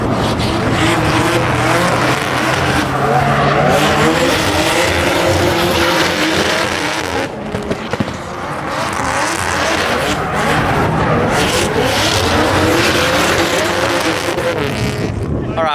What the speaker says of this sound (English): here are some clips of me and Nathan driving in our E36s to make you smile